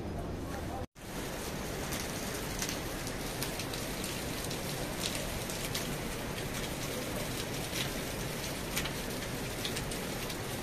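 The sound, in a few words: rain falling in the early morning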